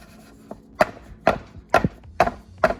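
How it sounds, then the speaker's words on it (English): A pound cake pan filled with batter is shaken and tapped, giving five sharp, hollow knocks about half a second apart, close and distinct with near silence between them. "we're gonna give this a little shake,"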